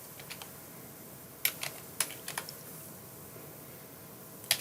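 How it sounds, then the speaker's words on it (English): Fingers type on a computer keyboard in short, irregular bursts of sharp key clicks, fairly close and quiet against a soft background hiss, with no talking. "Just type that out."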